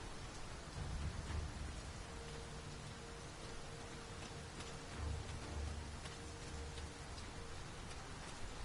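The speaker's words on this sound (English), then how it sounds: "It is raining most heavily." Heavy rain falls in the video game Dragon's Dogma 2, a soft, constant hiss of downpour with faint low rumbles underneath, steady throughout and fairly quiet, with no speech.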